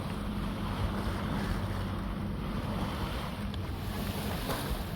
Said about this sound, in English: the drone of the engine, which is just pushing us along